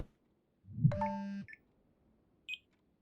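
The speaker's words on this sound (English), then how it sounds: "A phone." A phone gives a sustained electronic tone lasting about half a second, followed by two short, faint beeps in an otherwise quiet room.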